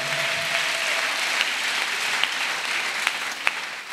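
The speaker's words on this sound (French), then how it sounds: "Acclamons pour David." A church congregation claps together for David during a service, sustained close applause holding steady for several seconds with a few sharper individual claps standing out.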